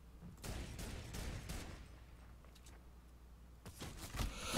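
Gunfire bursts in the Growtopia video game, with a dense rattle of shots at the start, a quieter stretch, then more bursts near the end, all fairly faint.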